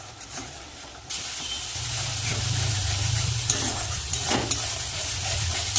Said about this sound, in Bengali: মশলা কিন্তু ভালো করে কষিয়ে নিয়েছি